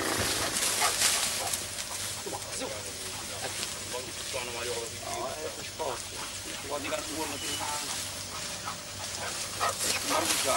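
A dog barks and whimpers outdoors while a man urges it on with quick repeated commands, the animal's sounds scattered among his talk at moderate distance.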